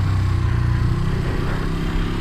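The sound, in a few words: 1973 Honda CL350 motorcycle engine revving for a jump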